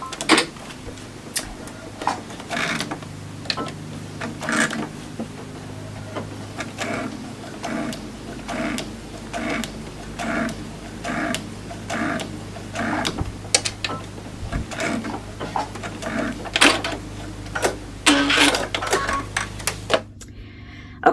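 A sewing machine stitches a line across a quilt block with a rhythmic mechanical clatter. Short bursts of needle strikes pause now and then, ending in a quick run before going quiet.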